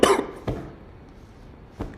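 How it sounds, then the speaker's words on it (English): A sharp cough bursts out close by, followed by two quieter coughs spaced apart in a short stretch. "why I keep fucking coughing?"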